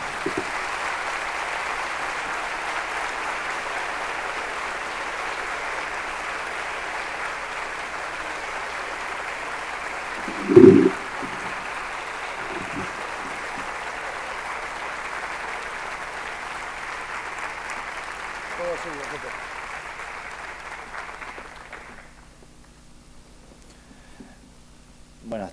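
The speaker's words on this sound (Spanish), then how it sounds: "Les pido un fuerte aplauso." A large audience at a talk on the Civil and Commercial Code applauds Ricardo Luis Lorenzetti with sustained, even clapping that stretches over twenty seconds, carries one brief louder burst midway, and fades out near the end.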